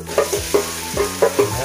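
Tomatoes tumble into onions sautéing in a pan, then are stirred, giving a close, steady sizzle broken by several clattering stir-and-scrape strokes, with no voices.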